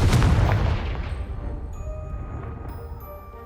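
A Confringo fire spell blast in the Hogwarts Legacy video game bursts as one loud, booming explosion, then trails off into a long rumbling decay with faint tones ringing afterward.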